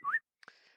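A person gives a short rising whistle, then a brief second whistled note with a softer trailing tone, close and clear in an otherwise quiet room.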